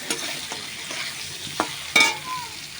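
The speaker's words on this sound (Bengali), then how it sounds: "আমটাও ভালো করে 2-3 মিনিট ভেজে নেব" Chopped mango pieces fry in a pan while being stirred, a soft continuous sizzle punctuated by several distinct scraping strokes of the spatula.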